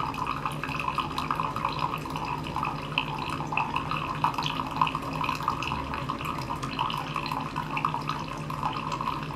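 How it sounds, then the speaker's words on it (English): A coffee maker brewing a morning pot gives a steady watery hiss and gurgle with faint dripping, constant and fairly close for the whole stretch, with no talking. "once my coffee's done brewing"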